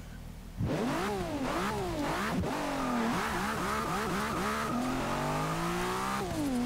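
Powerful race car engine in Forza Motorsport 6, revving hard through repeated upshifts with rising and falling pitch sweeps, loud and close, with brief tire squeal as it struggles for traction.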